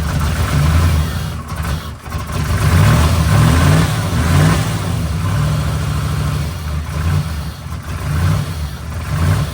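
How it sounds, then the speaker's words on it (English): A 1989 Pontiac Trans Am GTA engine, long abandoned, running rough and revving up in a couple of loud surges before settling back toward an uneven idle, heard close with no talk. "Will it rev?"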